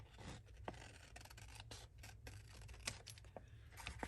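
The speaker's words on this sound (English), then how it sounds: "I'm going to go ahead and just cut right up along this line." Scissors cut along a line on patterned paper from a prima paper pad, giving a quiet, close series of crisp snips and rasping slides with short pauses between strokes.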